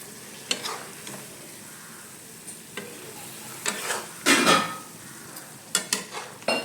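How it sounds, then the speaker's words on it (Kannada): A spoon scrapes and clinks against a pan while stirring a ladyfinger (okra) sambar mixture, giving intermittent sharp taps over a soft sizzle, with no talking. "ಪೂರ ನೀಟಾಗಿ ಈ ಥರ ಮಿಕ್ಸ್ ಮಾಡ್ಕೊಬೇಕು"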